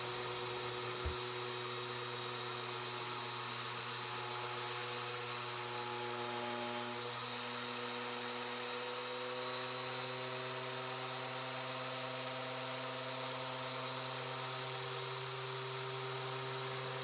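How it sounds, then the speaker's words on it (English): A short-throw 8mm polisher works over car paint, giving a steady, continuous electric motor whine with a constant hum and no pauses, close and alone. "we'll just use a short throw 8mm polisher, perfect for just enhancements"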